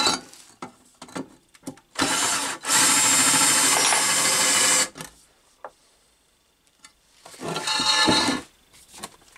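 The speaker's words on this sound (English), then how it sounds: "now I've used the drill just to mark the centre of these" A power drill bites into metal pieces to mark their centres, running in two long loud bursts and a later shorter one, separated by quiet handling knocks and clatter, with no talking.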